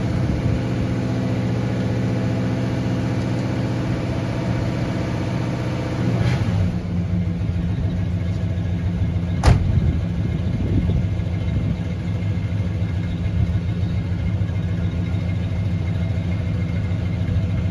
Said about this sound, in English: Usually I say you gotta love the sound of a big block in the morning, but in this case, gotta love the sound of a small block in the afternoon.